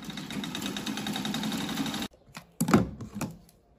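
A sewing machine runs steadily for about two seconds while a grandmother stitches a child's belly apron, then stops; a few short clunks and handling knocks follow, close and fairly loud, with no talking.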